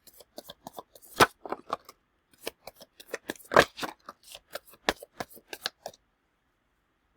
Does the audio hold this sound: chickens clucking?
no